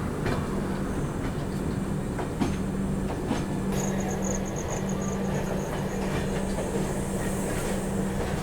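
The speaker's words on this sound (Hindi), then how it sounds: "ये आती हुई आनंद विहार टर्मिनल मधुपुर हमसफ़र एक्सप्रेस, मधुपुर हमसफ़र आती हुई दोस्तों।" The Anand Vihar Terminal–Madhupur Humsafar Express passes close by with a loud, continuous rumble, rhythmic clickety-clack of wheels over rail joints and a thin metallic squeal rising partway through.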